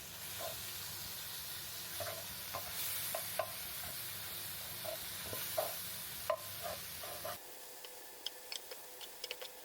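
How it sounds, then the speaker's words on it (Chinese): Eggs stir-fried in a wok for a home Chinese dinner, heard as a steady sizzle with repeated scraping strokes of the spatula. The frying fades after a few seconds, leaving only scattered light clicks. "把刚才炒好的鸡蛋倒回锅里"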